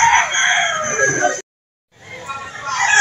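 At a chicken market in Lipa, Batangas, a lemon sweater rooster crows in two loud bursts split by a short gap of silence, with market bustle beneath.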